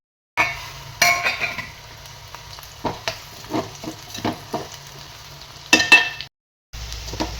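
Potatoes fry in hot oil in a home kitchen pan, giving a steady close sizzle broken by sharp clinks and scrapes of a utensil stirring against the metal, with a brief silent gap near the end.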